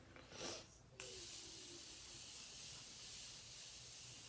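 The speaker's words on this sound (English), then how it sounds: "I like to go in and use the Morphe setting spray, and I'll just put that all over my face" A short spritz of Morphe setting spray onto a face, followed by a long, steady hiss of spray from a nearby bottle, loud and continuous after a brief opening puff.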